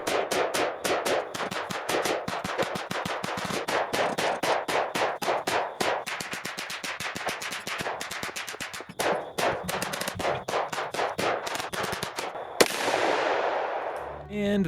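Rapid volleys of .308 rifle and .22 LR gunshots strike a 10 lb fire extinguisher, sharp cracks firing in fast irregular bursts near the microphone, ending in a loud burst of hissing spray as the extinguisher ruptures.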